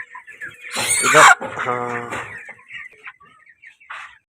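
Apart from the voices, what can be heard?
desi chickens clucking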